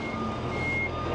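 Trucks reverse while boarding a RoRo ferry, with a steady, loud reversing beep over engine rumble and a constant hum of the vehicle deck, with no talking.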